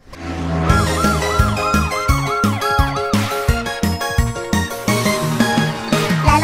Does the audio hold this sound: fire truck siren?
yes